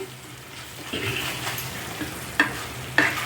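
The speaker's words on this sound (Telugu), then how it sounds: "ఇప్పుడు దీన్ని కాస్త కలిపి పచ్చి వాసన అయ్యే వరకు కొంచెం వేయించాలి మనం" Ginger garlic paste sizzles in a pan for prawn curry while a spoon stirs it, a steady close frying hiss broken by scraping strokes and two sharp clinks of the utensil against the pan.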